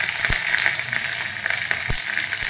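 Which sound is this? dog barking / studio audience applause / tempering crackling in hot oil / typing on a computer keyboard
tempering crackling in hot oil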